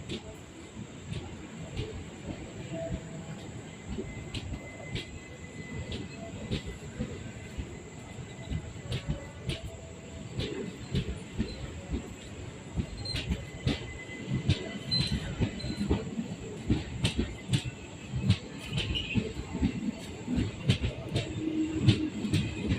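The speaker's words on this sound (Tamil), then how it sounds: "இப்போ இந்த ட்ரெயின் டிபார்ட் ஆகிட்டு கைஸ் கொரடாச்சேரியிலேருந்து" A train rumbles and clatters steadily as it departs Koradacheri station in India, with occasional metallic squeals and clicks over the low, continuous rolling noise.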